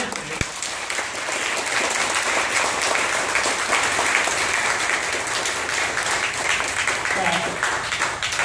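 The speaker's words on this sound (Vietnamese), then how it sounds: "Xin các chị và các em cho một tràng pháo tay" A crowd claps continuously, a full burst of applause from many people that carries on at an even level.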